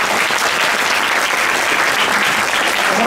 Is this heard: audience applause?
yes